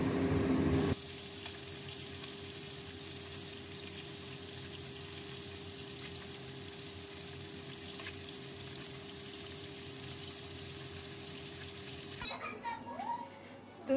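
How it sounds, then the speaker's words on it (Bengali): Biuli dal, a split black lentil, simmers in a pot on a home stove, giving a steady, even bubbling hiss with a faint tonal hum beneath it. The sound holds unbroken for about eleven seconds, then cuts off into brief clatter. "এই যে এটা হচ্ছে বিউলির ডাল, এটা ফুটছে"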